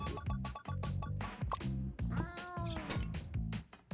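Cartoonish cat meows from an arcade roguelike pet-battler game come in a rapid series of short, bright, repeated calls with little else behind them.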